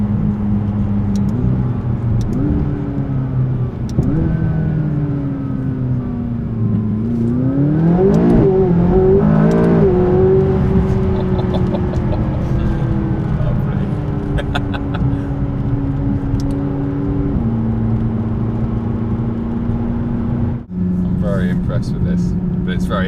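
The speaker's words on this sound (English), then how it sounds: "there's a design team purely based on designing the noise of an exhaust" A 2017 McLaren 570S engine and tuned exhaust rev and drone nearby, pitch rising and falling through gear-like steps, with people talking over it throughout.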